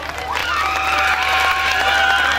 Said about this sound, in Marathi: ह्या पहिल्या खेळासाठी एकदा जोरदार टाळ्या झाल्या पाहिजेत